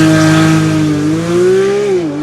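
Stock-exhaust Porsche 992 GT3 holding a loud, steady high-revving engine note that climbs smoothly and then dips, close and alone without talk.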